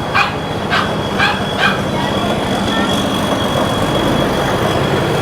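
Dogs bark four times in a quick series from a short distance in a rice-farming village during harvest season, followed by steady outdoor rumble and hiss.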